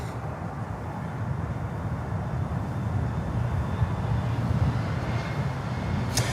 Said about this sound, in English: We have a 777 also coming in here on runway 12.